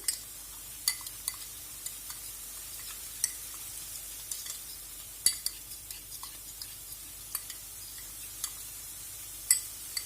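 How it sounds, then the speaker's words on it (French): A spoon stirs a preparation thickened with cornstarch in a cooking pan, making soft, sparse scrapes and small taps close by against a quiet hiss. "Je remue."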